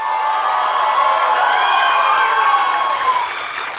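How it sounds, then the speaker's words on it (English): A large audience at a celebrity panel event bursts into loud sustained applause and cheering, dense clapping with whoops and shouts rising over the crowd before easing slightly at the end. "I want to hear a loud round of applause."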